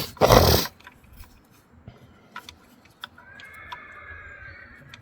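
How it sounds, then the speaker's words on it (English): A horse gives a loud, close, shrill neigh lasting under a second, then faint scattered knocks and a thin whine linger in a quiet outdoor space. "Just heard fucking horse screaming."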